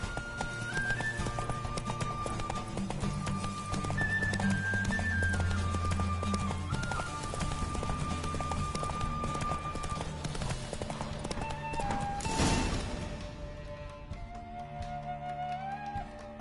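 Horse hooves clip-clopping at a gallop in Witcher 3, a steady rapid beat running under game music throughout, with a brief louder swell partway through.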